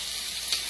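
Country fried steak sizzling in hot oil, a steady close crackle with a brief louder pop of spattering near the end.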